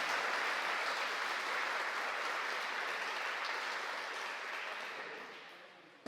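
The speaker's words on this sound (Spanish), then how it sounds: "nos saludamos con un aplauso bien grande para que sintamos la fortaleza" A large gathering at a Colombian cultural ceremony breaks into big, sustained applause, a broad even wash of clapping that stays steady before fading in the last second.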